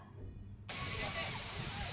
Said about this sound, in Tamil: கிட்டத்தட்ட ஒரு 300 அடியிலேருந்து இந்த தண்ணி வந்து விழுகுது.